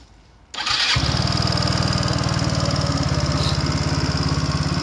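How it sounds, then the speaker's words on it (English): A 2012 Yamaha BWS 125cc scooter with an upgraded exhaust starts after a moment of quiet and settles into a steady, close, rhythmic idle putter. "Let's see how the engine sounds."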